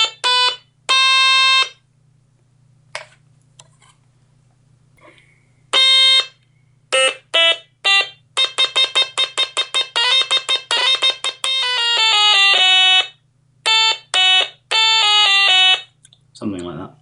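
A Stylophone's third sound gives piercing, buzzy electronic tones in short bursts and quick repeated stabs, loud and alone, with brief gaps and a low hum underneath.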